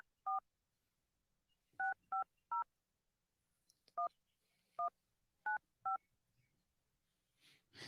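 Keypad tones from a phone being dialed ring out as eight short, clear beeps in uneven clusters, close and isolated against near silence, with a faint breath or rustle at the end.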